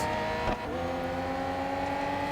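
Ferrari Enzo engine in the mobile racing game Real Racing 3 on iPad, a loud, steady high-revving drone that holds throughout, with a brief dip near the start.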